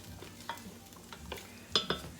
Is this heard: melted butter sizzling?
yes